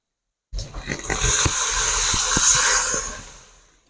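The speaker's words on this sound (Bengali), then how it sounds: "এবার আমি এর মধ্যে একটু জল দিয়ে দেবো" Water poured into a hot pan of cooking pointed gourd bursts into a loud, close steamy hiss after a brief silence. It roars steadily for about three seconds with a few crackles, then slowly fades. No one speaks.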